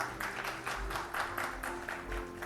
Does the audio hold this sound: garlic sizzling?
no